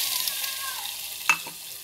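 Ground spices and coriander powder fry in oil for a Maharashtrian black-masala cluster-bean curry, a soft close sizzle with one sharp stirring clink near the end.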